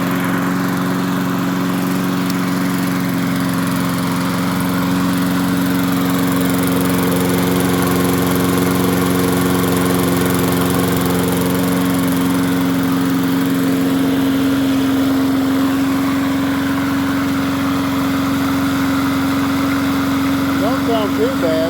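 Free MTD 22-inch push mower, model 11-A084E029, engine running steadily at a constant close, loud drone throughout with no change in pace, a voice faintly audible under it.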